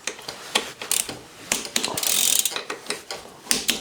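Ratchet wrench tightening crank bolts on a Trek mountain bike, a series of close, sharp clicking ratchet strokes in irregular bursts with short pauses between pulls.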